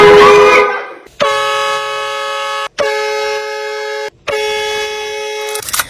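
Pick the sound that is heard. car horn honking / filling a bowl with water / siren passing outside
car horn honking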